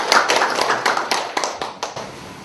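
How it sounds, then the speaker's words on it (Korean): Applause at a university cyber literature award ceremony: a small audience claps in a short burst of fairly close, uneven hand claps that thin out and fade within a couple of seconds. "박수."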